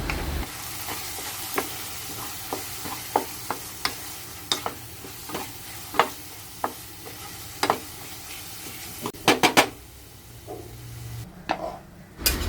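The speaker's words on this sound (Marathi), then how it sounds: "त्याच्यानंतर चवीनुसार मीठ घालून सगळं परत मिक्स करून घ्यायचं जेणेकरून मसाले पूर्ण ते कांदा टमाट्यामध्ये मिक्स होऊन जातील" Masala being stirred into an onion and tomato gravy in a pan, a soft sizzle under regular scraping and knocking of a spoon, with a quick burst of clatter near the end.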